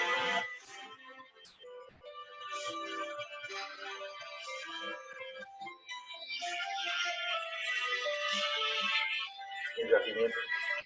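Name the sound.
phone ringtone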